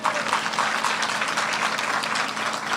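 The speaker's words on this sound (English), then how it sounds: "Keep that clapping going" Audience applause at a South Carolina Teacher of the Year event, a dense, steady wash of clapping that holds at an even level for about three seconds with no voices over it.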